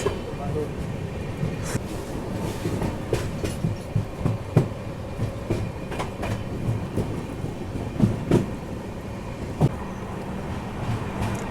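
The Pragati Express passenger train runs slowly along a loop line through the Bhor Ghats in heavy monsoon rain, giving a continuous low rumble with irregular clanks and thumps from the wheels and cars.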